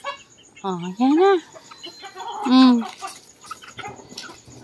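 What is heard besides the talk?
roosters crowing and clucking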